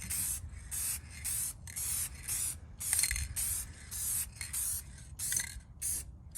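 Repeated bursts of spray coating hiss onto a car headlight from a short distance during a headlight restoration, about a dozen short puffs in a steady rhythm with brief gaps, close and fairly loud, no talking.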